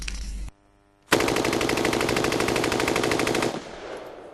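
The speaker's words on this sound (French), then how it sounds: "Tirer des centaines de coups de feu par minute. C'est ce que permettent ces appareils appelés bump stocks." Rapid-fire burst from a semi-automatic rifle fitted with a bump stock, a dense, fast machine-gun-like stream of shots lasting a couple of seconds, loud and close, after a brief lull.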